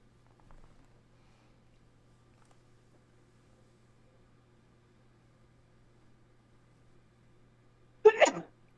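Near the end of a long hush, a single sharp sneeze bursts out close and loud, following faint room hum and a soft earlier rustle.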